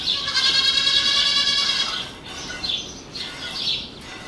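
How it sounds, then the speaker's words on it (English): A dairy goat in a milking stall gives a loud, drawn-out bleat that trails off, followed by a few shorter, fainter calls. "Hannah, hopefully your goat stands nice and still and doesn't put her filthy feet into your milking bucket"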